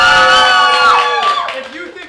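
A studio audience at a game show cheers and shouts to vote for a winner, a loud, sustained mass of voices that tapers off near the end, with a possible clap under the shouting.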